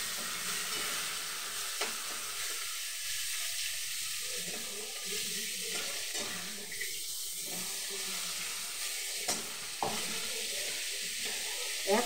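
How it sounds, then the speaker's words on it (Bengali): Fried bele fish sizzles softly in a pan as a tomato and onion mash is stirred in, a faint steady frying hiss with scattered scraping strokes. "এই যে বেলে মাছটা ভাজা হয়ে গেছে, এই যে মাখাটা দিচ্ছি এবার।"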